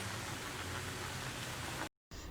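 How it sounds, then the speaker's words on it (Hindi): Chakli fry in hot oil over medium heat, giving a dense, steady crackling sizzle close up that breaks off briefly into silence before resuming; no talk. "तो बस इसे अब हम फ्राई कर लेते हैं। तेल यहाँ पे गर्म हो चुका है।"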